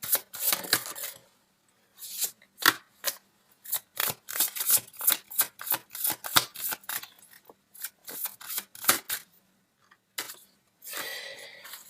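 Tarot cards are shuffled and drawn in a quiet room, producing a long run of sharp papery snaps and flicks in irregular bursts, with a rustling riffle near the end and no talking.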